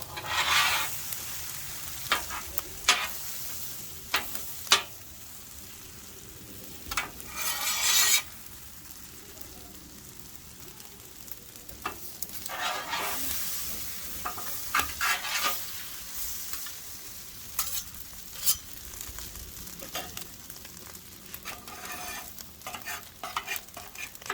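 Rice is stirred and scraped across a hot flat-top griddle, a steady sizzle and frying hiss broken by repeated metal spatula scrapes and clacks, close up with no voices.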